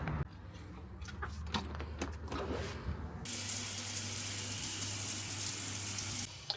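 Shower water running steadily at a campsite washroom, a loud continuous hiss that starts abruptly partway through after some clattering handling sounds, then cuts off near the end.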